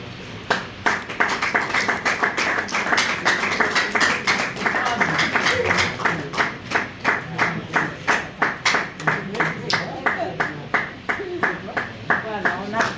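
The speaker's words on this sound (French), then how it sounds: "Voilà, on applaudit." Steady applause from an audience at an African ceremony, a dense run of handclaps with sharper individual claps standing out as it goes on, moderately close and continuous for the whole stretch.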